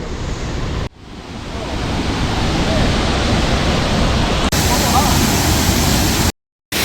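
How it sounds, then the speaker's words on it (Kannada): A monsoon-swollen waterfall at Thoseghar in Maharashtra roars as a dense, steady wash of rushing water, loud and close, with heavy wind buffeting the microphone and brief cuts near the start and the end. "ಡೌನ್ ಇಳಿತಾ ಹಂಗೆ ಓಪನ್ ಆಗುತ್ತೆ ಫಾಲ್ಸ್ ಇವಾಗ"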